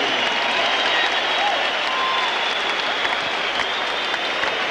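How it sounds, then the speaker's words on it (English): Boxing arena crowd applauding Henry Wharton after his fight against Nigel Benn, a dense, steady wash of clapping and cheering that holds loud and unbroken throughout. "Ladies and gentlemen, have a hand of recognition for an outstanding effort and a fine sportsman. Have a hand for Henry Wharton."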